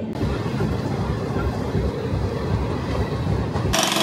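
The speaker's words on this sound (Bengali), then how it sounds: "আমাদের ট্রেন ছেড়ে দিল চিরালা স্টেশন" An Amrit Bharat Express passenger train runs at speed just after leaving Chirala station, a loud continuous rumble and rattle of wheels on track heard from inside the coach.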